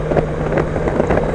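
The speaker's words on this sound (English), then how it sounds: "Definitely picking up some extra wind on the sides." Wind roars steadily around a Goldwing motorcycle at speed, a continuous close buffeting rush layered over a low engine hum, with no talking.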